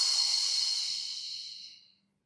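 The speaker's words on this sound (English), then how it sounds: "Exhale." A single long, audible exhale hisses out close to the mic during a Pilates leg exercise, fading gradually into silence after about two seconds.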